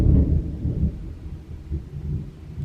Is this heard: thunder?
yes